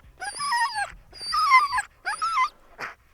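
A husky sled dog whines and howls in drawn-out, wavering cries, three long wails followed by a shorter whimper, loud and close on a snowy alpine sledding trip.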